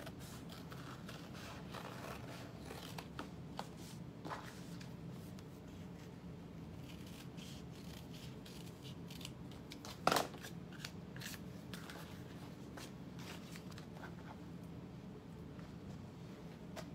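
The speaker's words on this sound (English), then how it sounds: "now I've cut out 2 of my side pockets from the contrasting fabric and the lining" Scissors snip through contrasting fabric and lining while side pockets are cut out for a satchel sewing pattern: a steady run of close, crisp blade strokes and rustling cloth, with one sharper snap partway through.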